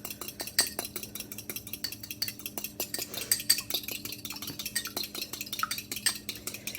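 Egg and vanilla being whisked together in a bowl for rolled cookie dough, a steady run of quick utensil clinks and taps against the dish, close and fairly quiet, with no voices.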